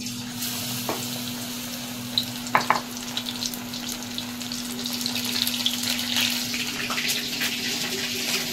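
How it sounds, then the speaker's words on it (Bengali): Battered lotte (Bombay duck) fish frying in hot oil, a steady close sizzle with a few brief clatters of handling partway through, no talking. "তো চলুন এবার আস্তে আস্তে কিন্তু মাছগুলোকে আমরা ভেজে ফেলি।"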